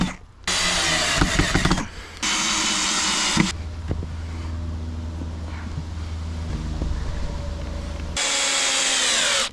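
A cordless screwdriver with a failing battery driving screws into wood at a building site: several loud, close motor whirs, one long sustained run, broken by short pauses and a few knocks.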